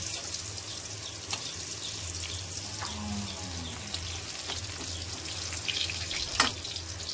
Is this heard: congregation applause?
no